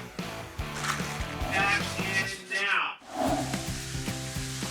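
Curry paste frying in a pan for a Thai khua kling stir fry, a steady loud sizzle under music and a voice, with a brief dip and a clattering scrape midway.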